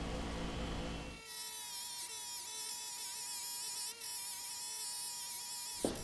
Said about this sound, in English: I'll work up through probably 2, maybe 3 grits of compound on the buffing wheel.